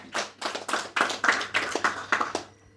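Audience hand claps ring out in a quick, fairly even series of about nine sharp claps, moderately loud and close, with no talk over them.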